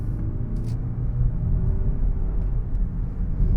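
A 2022 Mazda3 engine downshifts while holding a gear through a turn, a close, steady low rumble with a slight rise in engine pitch, heard from inside the car.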